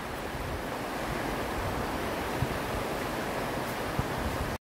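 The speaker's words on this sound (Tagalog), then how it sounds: "Sounds ng ilog." Steady rushing of a river flowing near an outdoor exercise path in Taiwan, a continuous broadband wash of water at moderate level, with no talking.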